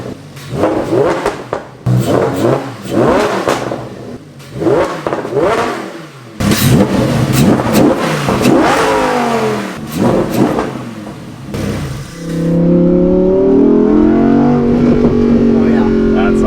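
A car engine, in a Hellcat Redeye versus Lamborghini Huracan comparison, cranks over in several hard, rough bursts before catching and settling into a loud, steady idle, with people talking close by between the attempts.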